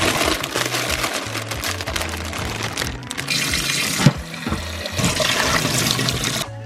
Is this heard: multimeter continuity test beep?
no